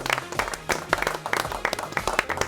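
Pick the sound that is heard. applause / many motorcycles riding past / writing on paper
applause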